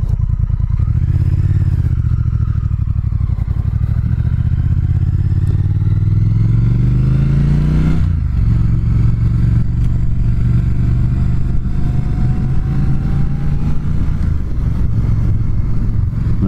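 A 2019 Triumph Speed Twin is ridden close up, its engine note rising steadily through one gear, then dropping at a shift near eight seconds before pulling up again, with a loud, constant rumble and wind noise throughout.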